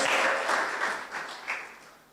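A church congregation claps together for a moment, a brief quiet burst with a few sharper pulses that fades away toward the end.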